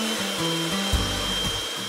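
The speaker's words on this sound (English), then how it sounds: "Separate 4 egg whites and whisk." Electric mixer whisking four egg whites for meringue, a steady close mechanical whir with small pitch shifts and a brief knock midway, no talking.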